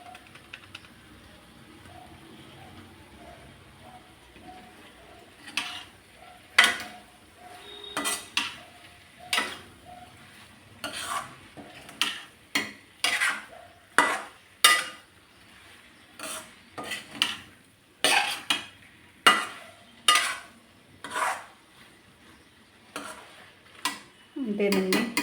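Chicken fry with chicken masala is stirred in a pan, a long run of sharp, irregular spoon scrapes and clinks against metal, close and moderately loud, with a faint sizzle underneath and no talk.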